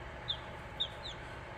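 Newly hatched baby chickens give faint high peeps, about three short calls spaced across the moment, over a low steady background hum from a heater.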